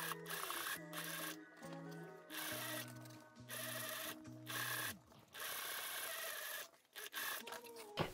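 A sewing machine topstitches a corset seam in short bursts, each run a steady motor whir with clear start and stop, separated by brief pauses, sounding close and moderately quiet.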